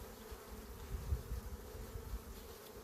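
Honey bees buzz steadily around an open hive while a beekeeper adds honey supers, a soft, continuous low drone of many wings with slight swells, faint and close, with no talking.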